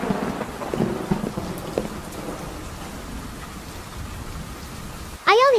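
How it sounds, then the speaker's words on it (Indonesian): Steady, dense rainfall pours outside in a movie scene, a continuous hiss with faint background sounds early on, then a sudden warbling tone at the very end. "Di luar hujan."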